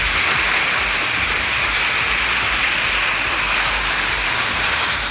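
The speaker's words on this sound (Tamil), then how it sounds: "கொடைக்கானல் பூலத்தூர் கிராமத்தில் ஆலங்கட்டி மழை பெய்ததை சுற்றுலா பயணிகள் வியந்து பார்த்தனர்" Hail and heavy rain pounding down in Poolathur village near Kodaikanal, a dense, steady hiss of falling ice and water, loud and unbroken throughout with no voices.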